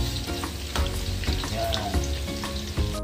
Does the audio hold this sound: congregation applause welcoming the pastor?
no